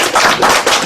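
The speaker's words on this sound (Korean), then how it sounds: "이래도 보통 박수가 나오더라고요" Audience members at a lecture for law school alumni break into a brief, loud burst of close clapping lasting about a second.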